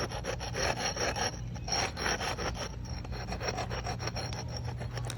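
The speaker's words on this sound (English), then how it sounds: "don't be afraid, just keep sanding" Continuous rough rasping of a sanding block scraping back and forth over a concrete surface in quick, repeated strokes, close up.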